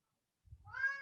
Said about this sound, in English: Is that your cat? that is my cat.